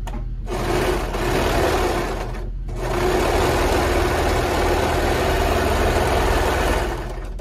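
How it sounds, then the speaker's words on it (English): Sewing machine stitching the shoulder seams of a tee, a steady whirring run broken by two short pauses, close and loud with no talk. "we're gonna sew along the shoulder seams using a 3/8 inch seam allowance"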